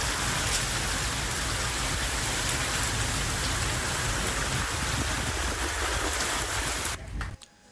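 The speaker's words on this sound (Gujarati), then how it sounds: "જૂનાગઢમાં જામ્યો વરસાદી માહોલ કે જ્યાં અનેક જગ્યાએ વરસાદી ઝાપટા પડ્યા" Steady rain pours in Junagadh during a monsoon shower, a dense, loud, continuous hiss of drops hitting surfaces that runs unbroken until it cuts off abruptly near the end.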